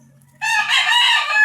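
A fighting rooster crows once, loud and close, a single sustained call rising after a brief quiet start and holding steady to the end.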